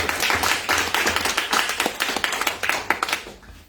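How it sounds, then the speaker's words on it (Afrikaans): A house church congregation in Groblersdal claps its hands in praise during a service, a fairly loud, rhythmic run of many handclaps that eases off at the end. "kom ons net die Here hande klap"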